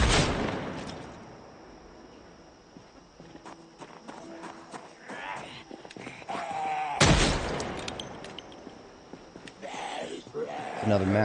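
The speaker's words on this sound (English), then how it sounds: "I'm just gonna shoot these guys." Gunshots ring out in the zombie survival game Project Zomboid as a few sharp, scattered cracks, with footsteps and someone talking over them.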